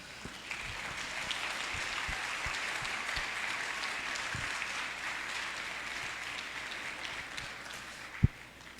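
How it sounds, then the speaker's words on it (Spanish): A congress hall audience at a Cristero gathering applauds steadily, a broad, moderately distant wash of clapping lasting several seconds with a few sharper thumps and knocks scattered through it. "para Él es el aplauso"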